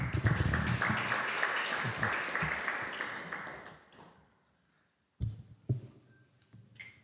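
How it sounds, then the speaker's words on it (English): Audience applause in a live devotional gathering welcoming a guest speaker, dense clapping for about four seconds that fades out, then a brief silence before scattered knocks and handling noises. "Let's give a round of applause to welcome Vijay Prabhu."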